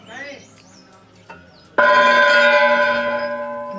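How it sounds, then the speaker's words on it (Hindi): A large, heavy temple bell at Golu Devta temple in Chitai struck once, ringing out loud and close with a long, steady sustain. Voices and faint background sounds come before the strike. "वजन इतना ज़्यादा है कि उसको बजाने में भी मेहनत करनी पड़ रही है।"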